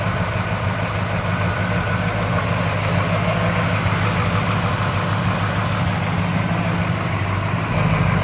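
A 1972 Chevy C-10 4x4 pickup with a four-speed idles steadily, a low, even engine rumble that holds constant and fairly loud throughout with no talk over it.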